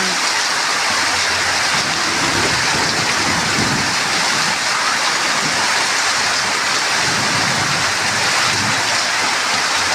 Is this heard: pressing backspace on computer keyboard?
no